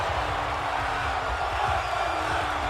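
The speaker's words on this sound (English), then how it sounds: "The crowd going nuts." A large arena crowd in the WWE 2K22 wrestling video game roars in a dense, continuous wash of cheering. It stays loud and unbroken throughout, with no talk above it.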